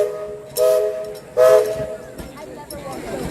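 Steam train whistle at Magic Kingdom toots in separate blasts over a crowd murmur at dusk, each blast short and bright, rising above the background and fading.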